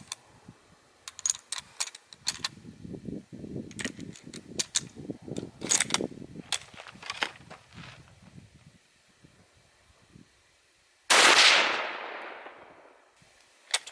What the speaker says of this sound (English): now 3 rounds through the Yugo Mauser